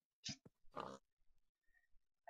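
A Minecraft pig in a Magic Farm mod pack gives a couple of short, close oinks and grunts, then quieter snuffles, faint in an otherwise silent room.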